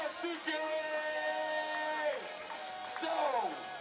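A crowd at a skateboarding jam final cheers and whoops for a skater, with yells rising under an announcer's amplified voice.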